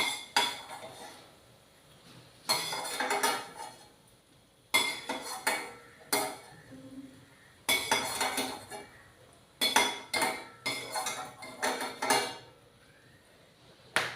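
Fried food, with peanuts already in the bowl, is scooped into a metal bowl while cooking an ivy gourd, peanut and cashew fry, giving clustered bursts of clinking and scraping metal with quiet gaps between them.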